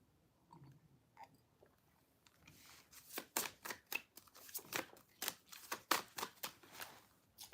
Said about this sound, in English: I think I shuffled everything.